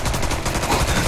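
Rapid machine gun fire from South Park: The Stick of Truth, a steady stream of loud, evenly spaced bursts over about a second, with no talking.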